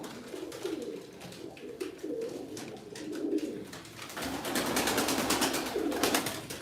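Tumbler pigeons coo at a bird auction, several soft layered calls repeating close by, over a constant hum of crowd and room noise that grows fuller and busier toward the end, with no clear speech.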